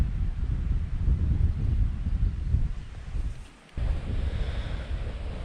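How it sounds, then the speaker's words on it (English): Strong wind buffets a kayak hammock campsite, a continuous low roaring rush with heavy microphone buffeting that drops briefly before surging back, loud and close with no talking. "the wind is just quite vicious actually"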